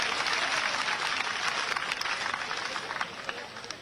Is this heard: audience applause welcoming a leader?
yes